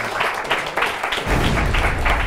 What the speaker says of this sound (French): Je vous demande d'applaudir avec nous ce soir Karine Waldman.